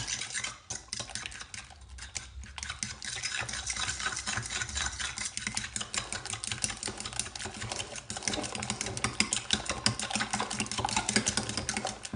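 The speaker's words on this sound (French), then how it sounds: "Et je mélange." Breakfast ingredients are stirred in a bowl in a steady, busy run of quick clicking and scraping strokes that continue densely throughout, close and fairly loud, with no voices.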